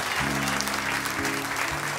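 A church congregation applauds during a Spanish-language service, a brief wash of clapping under sustained organ or keyboard notes.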